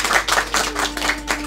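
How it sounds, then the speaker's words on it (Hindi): Audience applause at a Pakistani mushaira poetry evening, steady rhythmic clapping from a crowd, fairly loud and close, with a faint steady hum underneath. "तो इस तरह के मर्द जरी के लिए भरपूर तालियां होनी चाहिए"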